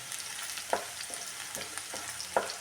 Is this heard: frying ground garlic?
yes